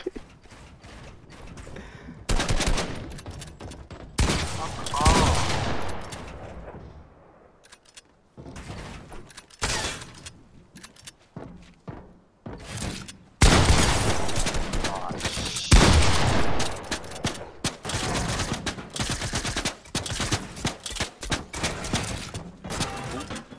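Video game gunfire shoots into a room in loud rapid bursts and volleys, broken by brief lulls, with a voice reacting at times.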